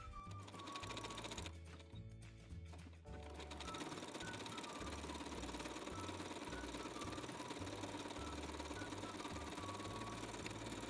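A sewing machine running an overlock stitch, 5 mm wide and 2 mm long, along a dress seam, with a fast, steady mechanical chatter close by. It dips briefly near the start, then runs continuously.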